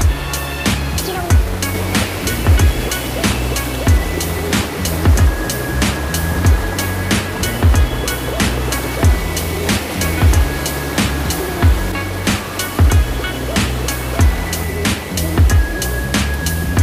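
A strong mountain stream at Wong Lung Hang on Lantau Island, Hong Kong, rushes loudly and continuously, with sharp splashes and knocks breaking through the roar at fairly regular intervals.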